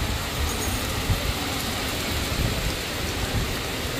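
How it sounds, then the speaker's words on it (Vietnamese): Steady heavy rain pours down on an outdoor rural market, a dense wash of pattering drops with no voices. "hôm nay trời mưa"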